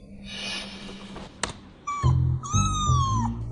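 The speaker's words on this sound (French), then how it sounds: "Petit chat, mignon." A cat meows several times up close, with rising and falling cries, after some background noise and a sharp click.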